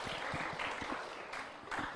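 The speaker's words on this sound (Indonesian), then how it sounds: "Tepuk tangan dulu." An audience at a primary-school Quran quiz competition in Padang claps together, a dense, continuous patter of many hands that swells in places before settling.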